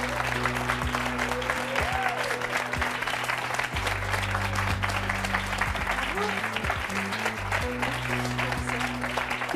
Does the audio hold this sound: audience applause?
yes